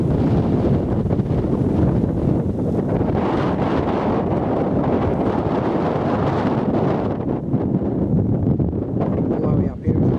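Strong wind buffets the microphone on an exposed downland hilltop near the Dyke pub, roaring steadily and loudly for the whole stretch with gusty surges and no let-up.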